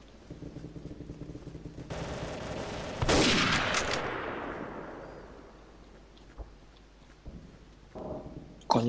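Gunfire in the Day of Defeat video game: a rapid burst of automatic shots, then a loud heavy blast with a long rumbling decay, followed by a few scattered distant shots, with no speech.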